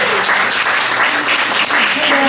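Dense, steady applause from a concert crowd for police and fire department members walking forward at a patriotic concert, a close, continuous wash of many hands clapping throughout.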